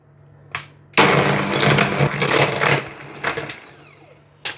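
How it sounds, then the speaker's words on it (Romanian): Electric mixer beating room-temperature butter until fluffy for an Opera cake: the motor whirs up abruptly and runs loud and steady for about three and a half seconds with slight surges, with a brief buzz before and after. "La temperatura camerei, pe care îl voi bate foarte bine, spumă."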